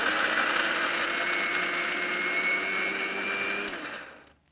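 Electric grinder whirring steadily as it grinds ginger, green chili and garlic into paste, a loud continuous motor drone that runs for about four seconds and then winds down and stops.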